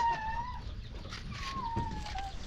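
A hen with her chicks outdoors after heavy rain, giving thin high peeping and clucking calls in two drawn-out bursts over a steady rumbling background of wind and water.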